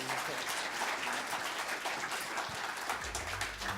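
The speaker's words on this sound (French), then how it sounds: "On peut l'applaudir." Audience applause at a student engineering trophy presentation, a steady, moderately distant wash of clapping that holds at even strength throughout, with no voices over it.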